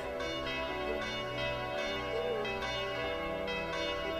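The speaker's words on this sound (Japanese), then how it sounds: "伝説の鐘が鳴らないはずなのに" The legendary bell of Tokimeki Memorial 2 rings out in slow, regular, resonant strikes roughly every half second, each chime overlapping the last under soft game music.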